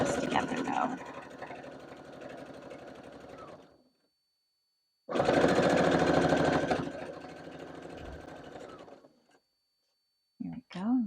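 A sewing machine bastes fabric for a project bag in two steady whirring runs of several seconds each, separated by a pause, with a brief voice at the very end.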